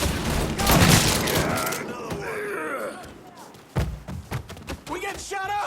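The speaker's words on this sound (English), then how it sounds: "We getting shot up!" Gunfire and impacts in the video game Mafia 3, with bursts of shots and heavy thuds mixed with game music and shouting voices, loud near the start and again toward the end.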